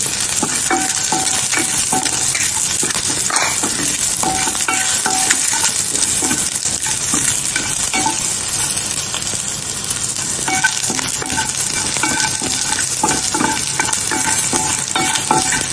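Ginger sizzling and frying in oil in a pan while being stirred, part of a traditional South Indian morning dish, with a steady loud hiss broken by occasional scrapes and clinks of the spoon.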